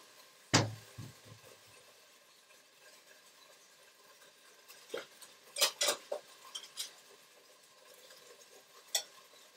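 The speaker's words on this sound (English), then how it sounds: "You hear it? It's very loud. It's frying." Taiwanese potstickers fry quietly in a pan, a faint low crackle under scattered clinks and clatter of plates and utensils being set out nearby.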